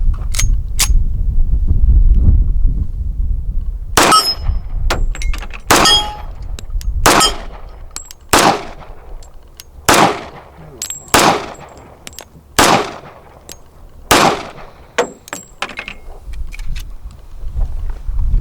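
A Springfield 1911 .45 ACP pistol fires about a dozen sharp, loud shots at a shooting session, spaced roughly a second apart, each with a ringing metallic clang from the steel targets.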